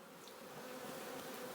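Honey bees hum in a dense, steady, continuous drone around a hive during a beekeeping inspection on a farm, close and even, with no talk.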